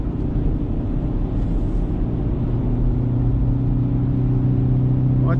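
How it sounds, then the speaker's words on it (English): A car engine runs smoothly while driving on the road to a gas station, giving a loud, steady low rumble with constant road noise and no speech. "the car is really smooth running"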